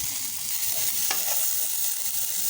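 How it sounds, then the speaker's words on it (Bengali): Coriander leaves, garlic and other vegetables fry in a pan for a vegetarian mash, with a loud continuous hiss and a few stirring scrapes. "এই সবগুলো এখন ভালো করে একটু ভেজে নেব"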